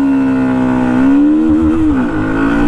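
A Hero Xtreme 125R motorcycle accelerating on the Agra Expressway, its engine droning loud and close with a steady pitch that rises slightly and dips briefly near the end.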